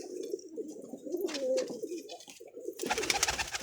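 Pigeons kept by a pigeon fancier coo in low, throaty, rolling phrases close by, with a brief rustle or flutter near the end and no talk over them.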